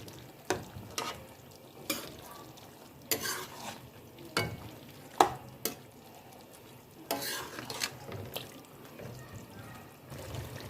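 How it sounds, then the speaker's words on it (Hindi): Spices such as chilli powder, turmeric, dried coriander and cumin stirred in a cooking pot for an aloo baingan dish: repeated sharp spoon knocks and scrapes against the pot over a soft sizzle, fairly quiet and irregular. "अब इन मसालों को अच्छी तरह मिक्स करेंगे।"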